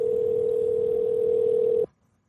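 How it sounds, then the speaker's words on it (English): A steady telephone tone on a call holds one continuous pitch for nearly two seconds, then cuts off abruptly into near silence; it sounds alone, fairly loud and close, with no voices over it. "There's some ringing going on."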